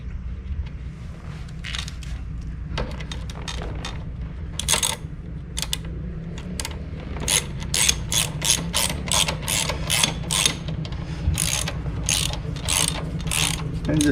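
A hand ratchet tightens bolts on the clutch housing of a Bucyrus Erie 10B engine, with quiet fiddling at first and then a long series of quick, sharp clicking strokes in steady runs, close and clear with no talk.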